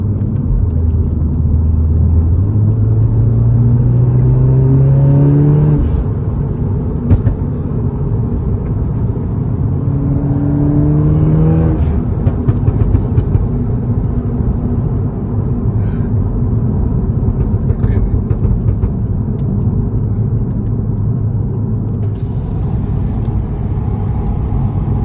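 Audi S3 with traction control off accelerating hard through a tunnel, wheels spinning and turbo spooling; a loud, close engine roar climbs through rising gear pulls, then settles into a steady heavy rumble.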